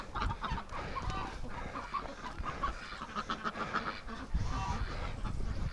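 Wintering ducks and geese call steadily in a pen during a coming snowstorm, with overlapping quacks and honks forming a busy, continuous chorus close by.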